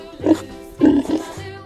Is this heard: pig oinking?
yes